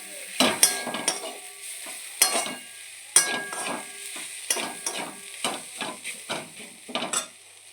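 Spices with turmeric and chili stirred and sautéed in a pan, with repeated scraping strokes over a steady sizzle, close and moderately loud, with no talking.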